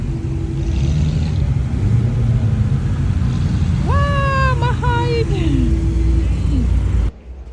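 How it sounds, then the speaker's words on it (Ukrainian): Vintage rare cars roll through central Vienna in a rally, with a steady low engine rumble throughout and a rising, wavering tonal whine around the middle. Voices murmur in the background. "Я попала на в центрі міста Відня на такий заїзд старовинних раритетних машинок"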